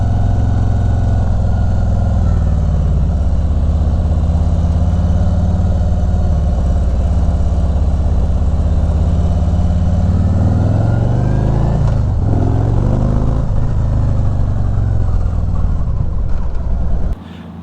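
A Harley-Davidson Touring motorcycle fitted with Vance and Hines Eliminator 400 mufflers idles close by with a deep, loping rumble, briefly blipping the throttle near the end before cutting off.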